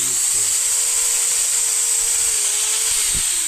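A drill whines steadily at high pitch as it bores a hole for an under-ice fishing rig, running continuously and close up for a few seconds.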